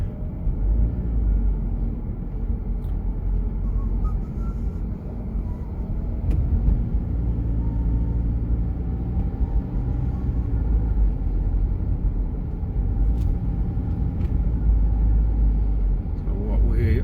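A car driving around town at night on an Uber shift: a steady low rumble of engine and road noise fills the cabin, with the driver talking over it throughout and occasional small clicks.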